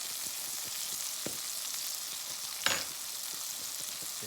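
Onions fry on a small portable camp stove, a steady close sizzle with soft crackles and one sharper clink or pop partway through, no talking.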